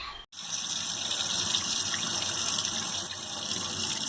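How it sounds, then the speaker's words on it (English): Cold tap water gushes steadily into a large cooking pot in a home kitchen, a continuous splashing fill after a brief click at the start, with no talking. "Put water in it."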